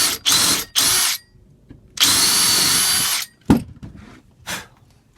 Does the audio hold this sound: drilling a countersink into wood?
yes